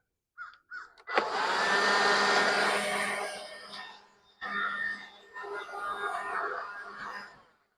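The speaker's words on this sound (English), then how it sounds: "let's take our blower" Leaf blower clearing debris out of a driveway crack: a loud, steady blowing whoosh starts with a sharp onset, then cuts out and returns in bursts, with faint clicks just before it starts.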